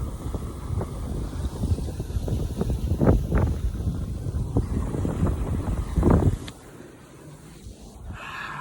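A sailboat moving at almost six knots through a 10-knot breeze, with steady rushing water and wind noise up close, broken by a few sharp splashes and slaps against the hull before it eases off near the end.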